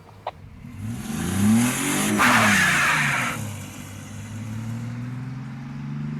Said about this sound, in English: Okay, starting the car.